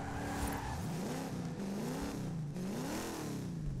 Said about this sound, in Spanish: El sonido de un motor V8 de los antiguos, de los brutales